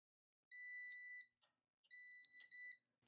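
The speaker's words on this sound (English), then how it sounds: "On this press, the beeper goes off." A heat press beeper goes off in two long high-pitched beeps with a short blip between them, clear and isolated against silence.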